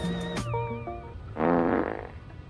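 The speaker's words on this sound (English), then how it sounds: "did you get that fart sound from Crash Tag Team Racing?" A cartoonish fart sound effect from the video game Crash Tag Team Racing: a short, wobbling, buzzy blurt that stands alone after some brief tonal game audio.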